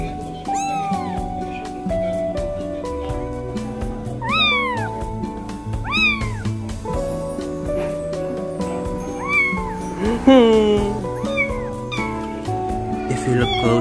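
A Siamese kitten with white-gloved paws meows repeatedly, giving about seven clear, fairly close calls spread over steady background tones.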